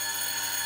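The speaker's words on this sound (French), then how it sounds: "Excusez-moi, le téléphone." A telephone rings steadily and continuously, fairly quiet and alone with no voices, in an old French animated series scene set in an office.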